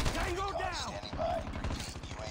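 Rapid automatic gunfire in Call of Duty Mobile multiplayer, a fast steady rattle of shots close up, running under game voice lines and tonal effects.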